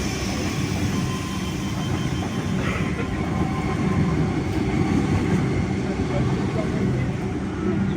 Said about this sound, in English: From Jane, we got a Waratah A-set passing through